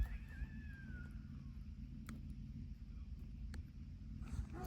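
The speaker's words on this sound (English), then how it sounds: "Some cat was howling." A wild cat's drawn-out, wavering howl rises briefly at the start and fades, over a steady low rumble of wind and background noise.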